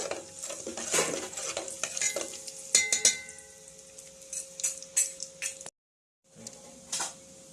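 Whole garam masala spices, cloves and a bay leaf among them, fry in oil in a pan for Chettinad chicken curry, with a steady sizzle under repeated stirring and scraping of a spoon against the pan, then a brief pause.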